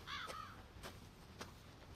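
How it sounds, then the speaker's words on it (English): A crow-caw ringtone sounds in Resident Evil 7, a few harsh caws spaced about half a second apart, moderately faint and with no speech. "There's my ringtone. Crow,"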